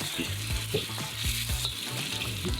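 Steady sizzling and spitting of crab frying in a hot wok, with a few soft scraping stirs, close and continuous without talk.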